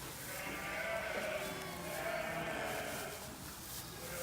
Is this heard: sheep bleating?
yes